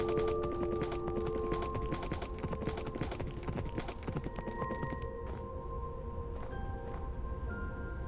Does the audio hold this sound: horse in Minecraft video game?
yes